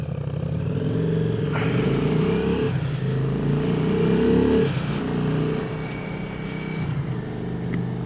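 Yamaha XV535 Virago V-twin motorcycle from 1995, its engine running steadily while riding, a low throbbing drone with a brief rev change midway, close and continuous with no speech.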